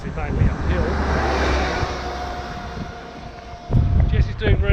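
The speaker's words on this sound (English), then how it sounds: "We've got a major headwind happening, and it's obviously mainly uphill." Strong headwind buffeting the microphone on a mostly uphill stretch of the Pamir Highway during a cycle tour in Tajikistan, a loud continuous roaring rush with gusty surges near the end.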